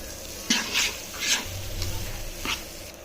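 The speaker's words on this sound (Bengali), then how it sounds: "এখন ভালো করে নাড়াচাড়া দিয়ে লই মাংসের ভিতরে।" Rice being stirred into meat in a cooking pot with salt and turmeric, giving several soft scraping stirs near the spoon amid a low background hum, with no voices.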